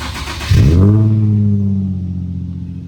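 A car engine fitted with a Tomei exhaust cranks and catches with a sharp loud burst, then settles into a deep, steady cold idle burble that slowly quiets.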